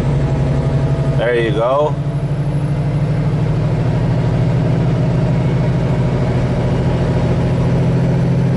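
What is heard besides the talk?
truck engine after a manual downshift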